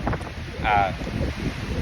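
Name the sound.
wind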